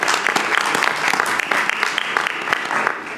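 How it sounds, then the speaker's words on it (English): An audience at a meeting applauds a presenter, steady dense clapping throughout with no break or voices. "as you give a round of applause"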